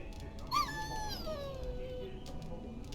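A dog in the video game Dragon Age: Origins gives a drawn-out whimpering whine that rises then slowly falls, moderately close over a faint game ambience.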